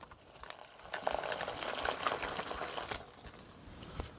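Hot water poured into a Mountain House Korean Inspired Beef freeze-dried meal pouch, a steady broadband liquid pour and splash lasting a few seconds at close range, with light pouch rustle and no talking.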